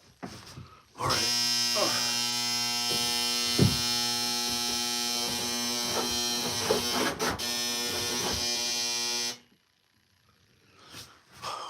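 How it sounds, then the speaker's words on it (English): A space heater's alarm goes off when the unit sits unevenly: a loud, steady, buzzing electronic tone holds for about eight seconds, with faint knocks and rustles underneath, then stops. "When the heater is uneven like that, it goes off. So that was the alarm there."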